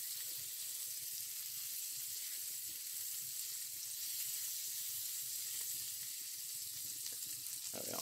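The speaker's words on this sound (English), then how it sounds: "You might not be able to hear me over the sizzling of the pan." Chorizo sizzling in a hot frying pan, a steady bright hiss and crackle held close and loud throughout, with faint pops and no talking.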